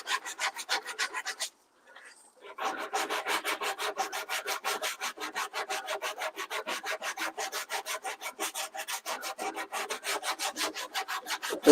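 Hand sanding on a wooden speaker box for an underseat Ford F-150 truck system: steady, rhythmic rasping strokes, close and even, with one short pause early on before the back-and-forth resumes.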